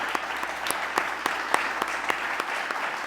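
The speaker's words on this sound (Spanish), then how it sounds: "Un aplauso." Audience applause at a science awards ceremony, a steady bed of clapping from a hall crowd with sharper individual claps popping out throughout, moderately loud and with no talking over it.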